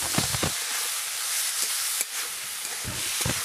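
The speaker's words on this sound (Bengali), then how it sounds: "ওই মশলাগুলো দিয়ে ভালো করে ডালটাকে একটু ভেজে নিচ্ছি।" Lentils fried in a pan with Kashmiri red chili powder and turmeric give a steady, close hiss of sizzling, broken by scattered soft clinks and scrapes of stirring.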